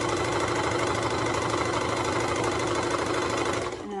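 A sewing machine runs continuously while stitching a seam on a toddler's reversible swimsuit, a fast close mechanical chatter that holds steady for about three and a half seconds before stopping.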